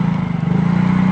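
A motorcycle engine drones loud and close, stuck in mud on a badly damaged road, its steady low pulsing hum holding throughout with no talk.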